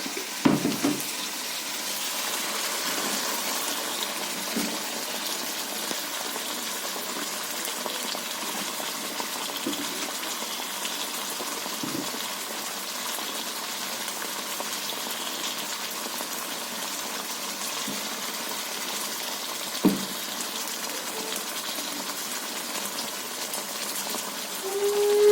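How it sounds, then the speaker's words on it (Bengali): A hilsa and eggplant curry with mustard and nut paste simmers softly as rinse water from the mixer jar is poured in, giving a faint bubbling hiss with a few scattered taps and drips. "মিক্সি ধোয়া জল দিয়ে দিলাম।"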